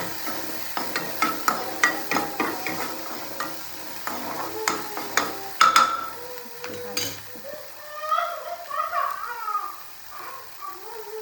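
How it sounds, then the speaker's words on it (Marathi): Tomato, carrot and chili being stirred in a pan with a spoon, repeated scraping strokes in a steady rhythm over a soft frying sizzle, close and fairly loud, with a few pauses. "टोमॅटो गाजर आणि ही जी मिरची होती ना मिरची त्याला व्यवस्थित हलवायचं"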